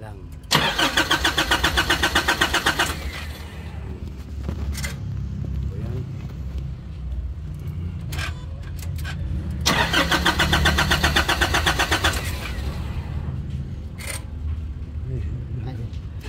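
Nissan NV350 van engine in lock mode cranking twice in long rhythmic bursts without catching, with a quieter hum and people talking between attempts.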